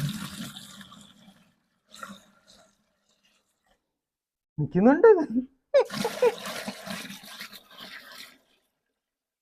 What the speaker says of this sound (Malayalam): ആ ബക്കറ്റിൽ നമ്മൾ ഇതിനകത്ത് വെള്ളം ഒഴിക്കാൻ പോവുകയാണ്